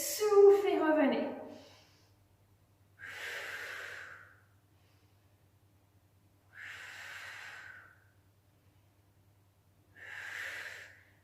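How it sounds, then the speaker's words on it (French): Slow, audible breaths in and out during a gentle abdominal workout, three long breathy exhales spaced a few seconds apart, close and soft, following a brief spoken instruction. "Inspirez et soufflez, revenez."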